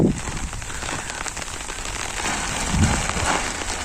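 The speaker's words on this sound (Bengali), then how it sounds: "বৃষ্টি আইসে পড়লো" Steady rain falls and patters on surfaces nearby, a dense even hiss of drops with no voices.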